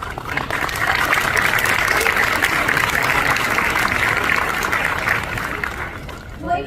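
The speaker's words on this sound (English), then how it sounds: "even Nobody though applauded after my answer" Sustained applause from a large convention audience at a panel in a big hall fills the whole stretch, a dense, steady wash of clapping that tapers slightly near the end.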